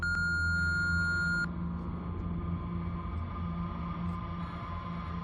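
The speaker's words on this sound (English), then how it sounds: "if you'd leave a message, you can do so at the beep" A single electronic beep, steady and tonal for about a second and a half, over a low constant hum that continues afterward.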